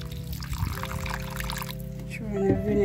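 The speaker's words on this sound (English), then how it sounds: "I'm going to throw some vinegar on it now and get it a second wash." Vinegar is poured over food being washed during home cooking, a short liquid stream splashing near the microphone alongside faint background voices.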